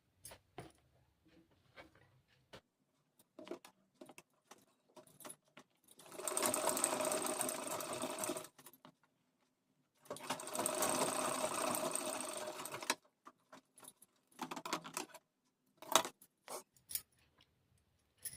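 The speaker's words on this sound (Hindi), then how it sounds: "अब इसे मोड़ के यहाँ पे सिलाई लगा दूंगी।" A sewing machine stitches the folded edge of a blouse's illusion neckline, running in two steady bursts of about six and three seconds, with scattered clicks and handling noises between them; no one speaks.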